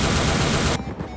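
Rapid gunfire from an aimbot pistol in the video game Teardown, a dense, loud burst of shots lasting under a second that cuts off abruptly into quieter rumbling.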